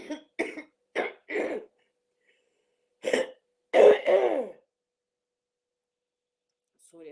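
Several sharp coughs and throat-clearing bursts come in short clusters, close and fairly loud, separated by quiet gaps.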